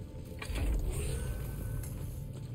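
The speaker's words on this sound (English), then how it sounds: "The sound of the doors opening is low-key pretty spooky." Large heavy doors in The Callisto Protocol grind and creak open with a low mechanical rumble, a sustained eerie rolling groan rising then holding steady, with no voices.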